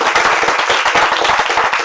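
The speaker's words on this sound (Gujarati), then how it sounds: "આપણે સૌ એને તાળીઓ દો." Audience applause at a Gujarati literary event, a dense steady patter of many hands clapping close and loud throughout, with no speech over it.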